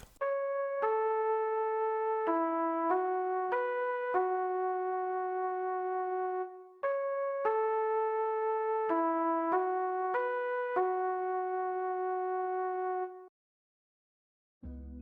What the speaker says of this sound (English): this is how the flute horn sound like